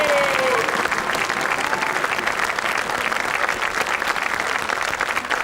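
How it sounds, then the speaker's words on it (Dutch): Thunderous applause from a theatre audience at an amateur play performance, loud, dense clapping that fills the hall throughout, with a faint voice briefly audible at the start. "Ik wil een daverend applaus voor een dame op de achtergrond, Corrie Willens Nachtegaal."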